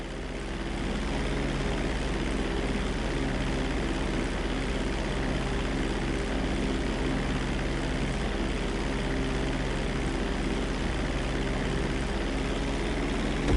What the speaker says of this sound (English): We're gonna start with a basic takeoff. Hold the throttle all the way down to pick up speed, and pull back on the stick to take off.